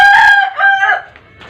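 A rooster crows loudly and close by, one strained, wavering call that trails off into quiet.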